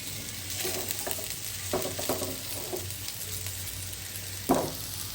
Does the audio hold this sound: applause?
no